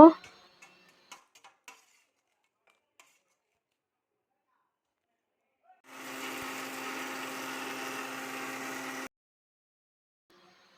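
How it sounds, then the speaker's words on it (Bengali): A kitchen mixer grinder whirs steadily for about three seconds while grinding dried red chillies into powder, following a few faint clicks and taps, then cuts off into near silence. "এবার আমি শুকনো লঙ্কাগুলো ভালো করে মিক্সিতে গুঁড়ো করে নেব।"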